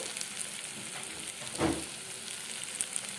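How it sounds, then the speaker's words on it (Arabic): Rice sautéing in hot oil sizzles in a steady, moderate hiss, with one brief louder scrape of stirring midway and faint clicks near the end, with no talking. "شوحته كويس في الزيت، الزيت اتقدح بس مشوحه الرز."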